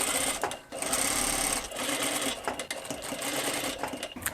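Sewing machine stitching a large hoop skirt, its rapid mechanical clatter running in steady bursts with a short pause early on, close and fairly loud with no talk.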